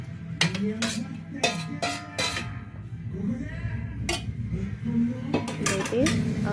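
Fried onions, curry leaves, cumin and coconut go into a steel mixer jar while a fish curry is being made. A spoon clinks and taps sharply against the metal in irregular bursts, close by, with soft handling noise between.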